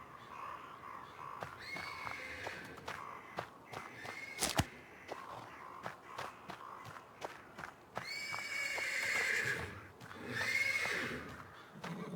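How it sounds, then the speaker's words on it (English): A horse neighs and whinnies from the stables in a video game, repeated shrill calls among hoof clops and other stable noises, moderately close and fairly quiet. "The persistent neighing of a horse can be heard from the stables."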